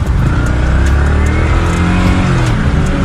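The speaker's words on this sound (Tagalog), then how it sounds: "nag-enjoy talaga ako dito sa bagong hatak ng motor natin ngayon" Yamaha R15 V4 motorcycle with a new chain and sprocket set filtering through traffic, a steady loud engine drone with continuous road and wind noise throughout, no talking.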